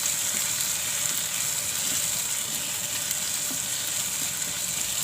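Onion, tomato and kokum sauté in a hot pan for a clam dish, giving a steady, close, even sizzle that holds without break and with no voices.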